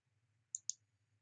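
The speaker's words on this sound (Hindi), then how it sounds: "तो इसके बाद हम नेक्स्ट बटन के ऊपर यहाँ पे क्लिक करेंगे।" Computer mouse clicking on a button during an online ad campaign setup: two quick, crisp clicks close together, near and quiet over faint background hum.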